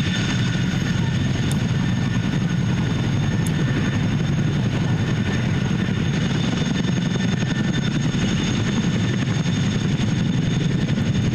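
A helicopter drones overhead, a steady throbbing rotor noise with a constant engine hum, loud and unbroken throughout.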